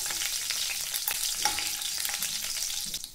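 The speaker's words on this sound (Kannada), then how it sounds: "ಈಗ ಹಾಕಿರೋದನ್ನೆಲ್ಲ ಸ್ವಲ್ಪ ಫ್ರೈ ಮಾಡ್ಕೊಳ್ಳೋಣ" Mustard seeds, dried chillies and curry leaves fry in hot oil, making a soft, continuous crackling sizzle with faint stirring scrapes, close and quiet, no voices.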